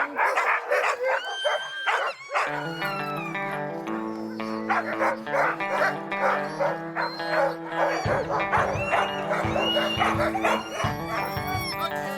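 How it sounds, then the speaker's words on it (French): Several farm dogs bark, yip and whimper close by in a lively, overlapping chorus that carries on steadily throughout. "Oh, les chiens, ça tourne!"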